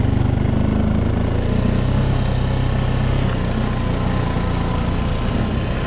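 A Honda quad bike engine drones loud and close in four-wheel drive, a steady low mechanical rumble pulling a bush harrow over ground being sown with grass seed, with no talk.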